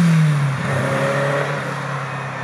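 A 1975–1985 Ferrari 308 GTB engine revs up and then settles into a steady, loud mechanical whir, close by and with no talk over it.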